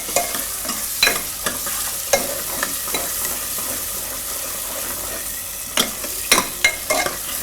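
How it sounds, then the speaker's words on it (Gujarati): Onions stirred and sautéed in a pan for a Gujarati potato-filled paratha, a steady frying sizzle broken by irregular scraping and clattering strokes of the spoon, close and alone. "થોડીક વાર ડુંગળીને આ રીતે ફેરવી લેવાની"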